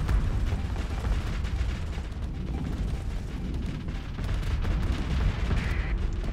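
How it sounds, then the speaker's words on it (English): Missiles launching in the space combat game Starsector during a fleet battle: a dense stretch of rumbling booms and mechanical clatter, steady and fairly loud, with no talking. "Missiles."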